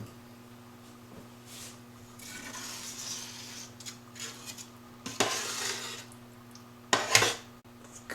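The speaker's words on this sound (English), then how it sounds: "This has been simmering for about an hour and a half. I'll give it a stir." A spoon stirs a simmering ground-beef meat sauce for lasagna in a pot, giving a few soft scraping swishes and then two louder clanking scrapes against the metal over a low steady hum.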